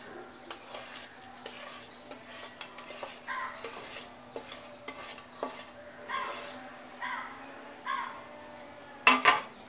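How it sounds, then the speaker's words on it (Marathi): A spoon stirs crushed edible gum (dinkache) into a ladoo mixture in a bowl, scraping and tapping again and again at close range. Near the end comes a brief louder clatter of utensils. There is no talking. "आपलं डिंक आता आपलं चुरून झालेलं आहे ते सुद्धा आपण त्याच्यामध्ये मिक्स करून घेऊया"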